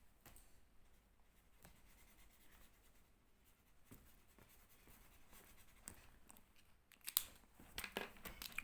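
Felt-tip pens coloring a drawing of an ice cream on paper, faint scratchy strokes in quiet, irregular bursts that grow louder and denser toward the end.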